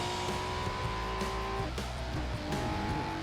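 Video game car engine in Forza Horizon 4 revving and accelerating, pitch climbing through gear shifts, with a brief tire squeal, steady and close.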